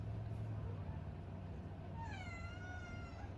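A cat meows once in a drawn-out, rising and falling call over a steady low hum and background noise, moderately close and alone without talk.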